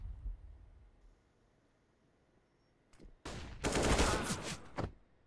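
Bursts of AK-47 gunfire in a Counter-Strike match on Vertigo, a short shot then a loud rapid volley of sharp cracks after a near-silent stretch.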